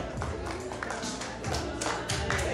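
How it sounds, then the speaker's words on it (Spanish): Wedding guests clap in a close, busy burst of individual handclaps, sharp irregular slaps carrying on throughout without talk. "Un aplauso fuerte,"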